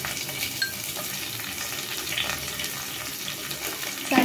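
Chopped onions hitting hot oil in a frying pan for dal khichdi, a continuous dense sizzle and crackle that holds steady throughout, close and fairly loud, with no talk.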